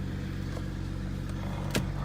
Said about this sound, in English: Engine seems to be running smooth while it be loud.